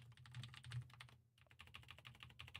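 Rapid typing on a malfunctioning computer keyboard, dense close clicking keystrokes with a brief pause midway, no talk.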